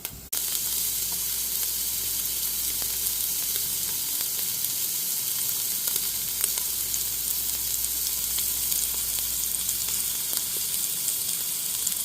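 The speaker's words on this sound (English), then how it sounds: "We want to sear in all that flavor that we can on all sides." Pork searing in an Instant Pot gives a loud, continuous sizzle and hiss of frying meat that holds steady throughout, close by and uninterrupted.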